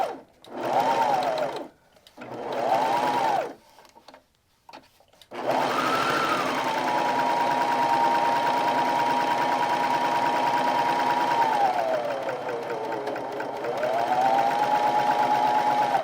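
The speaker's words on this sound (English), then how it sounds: "I'm going to serge finish the edges and show you how I turn corners at the same time" A serger finishes the edges of denim fabric, starting in a few short bursts with pauses as it turns corners, then running in one long steady high whine, close and loud, with no talking.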